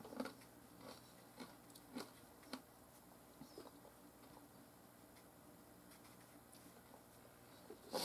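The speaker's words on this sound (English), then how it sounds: "the crunching you hear is my cough drop" Quiet crunching of a cough drop chewed near the mouth, a handful of sharp irregular crackly bites spaced over several seconds against a faint room hiss.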